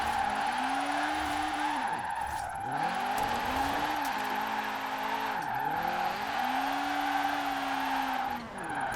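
Tires squeal in a long drift from a Honda-powered Mini in Forza Horizon 4, all-wheel drive, the screech sliding up and down in pitch over a steady loud engine drone, close and continuous throughout.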